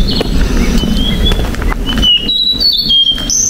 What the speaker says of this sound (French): Vous entendez le calme, le chant des oiseaux?